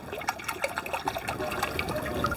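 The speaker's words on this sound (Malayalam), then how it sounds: "ആ വറുത്ത എണ്ണയിലെടുത്ത് ബാക്കി എണ്ണയും കൂടെ ഒഴിക്കുകയാണ്" Leftover frying oil from frying pearl spot fish is poured into a pan for fish pickle, a brief, faint liquid trickle and splash lasting a couple of seconds.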